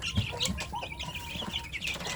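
Village chicks in a brooder box give steady high cheeping and chirping, with soft clucks and brief wing flutters close by and no talk.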